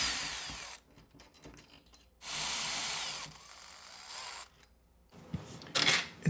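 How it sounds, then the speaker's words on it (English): A Phillips No. 2 driver backs out two fasteners on a Kwikset SmartCode 270 electronic lock, giving bursts of ratcheting, whirring tool noise split by short pauses and small clicks, fairly close and moderately loud. "we're going to use our Phillips number 2 driver to remove these 2 fasteners"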